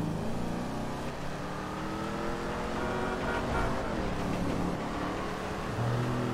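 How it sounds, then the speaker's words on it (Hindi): Ford Mustang driven in GTA 5 gives a steady, loud engine drone with a rich low rumble that holds throughout and swells slightly as it revs, with no talk over it. "oh my God, look at the sound of this car"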